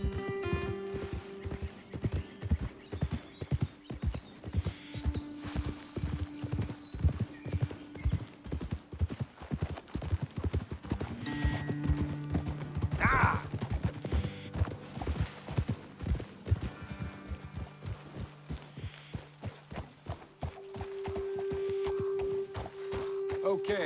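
Horses' hooves clip-clop steadily on a trail in Red Dead Redemption 2, a continuous walking rhythm near and fairly loud, with a brief whinny and a voice talking over it.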